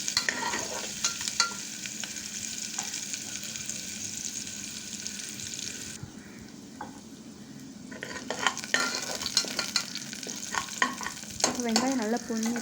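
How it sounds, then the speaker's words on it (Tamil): Chopped shallots and dried chilies fry in a pan while being stirred, with a steady sizzle under repeated scraping and clinking of a utensil, a quieter stretch midway, then livelier stirring again. "இது கூடவே ஒரு 4 சின்ன வெங்காயத்தை குட்டி குட்டியாக நறுக்கி இதில் போட்டுக்கோங்க. போட்டு நல்லா கிளறி விட்டுக்கோங்க."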